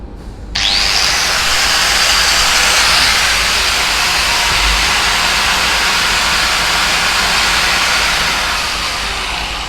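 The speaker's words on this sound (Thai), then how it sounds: "วันนี้เราจะลองเทสในส่วนของอใบเจียดูนะครับฟังเสียงนะครับผม" A Milwaukee AG10-100SEA 4-inch angle grinder spins up with a sharp start and holds a steady, loud, high-pitched whine with hissy broadband noise, running alone without talk and easing slightly near the end.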